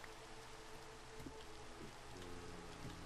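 Steady rain falling in the video game Minecraft, a constant soft hiss of drops with faint low tones beneath, continuous and unbroken, with no talk.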